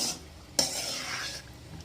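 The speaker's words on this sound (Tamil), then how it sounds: "இந்த பாத்திரத்தோட சூட்டுக்கே நல்லா பொழு பொழுன்னு வந்துடும் வெள்ளச்சோறு இல்லாத அளவுக்கு நம்ம கிண்டி வச்சுக்கிறோம்" Tamarind rice is stirred in a hot pot, giving a single sharp metal scrape and clink followed by a soft ongoing rustle of rice being turned, close and quiet.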